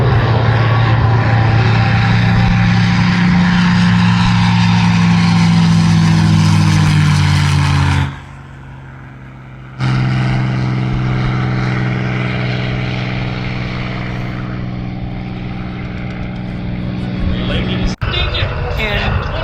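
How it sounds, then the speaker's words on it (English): A P-51 propeller aircraft departs at AirVenture Oshkosh, a loud close engine roar with strong droning tone that cuts out suddenly, then resumes and gradually fades into the distance, with speech over it. "here's the P-51 departing out to do a heritage flight with the"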